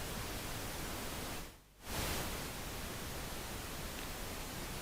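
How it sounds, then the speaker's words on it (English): Synthesized pink noise generated in a sound design app, a steady broadband hiss with one brief dip and swell partway through, playing alone without talk. "We'll make some pink noise."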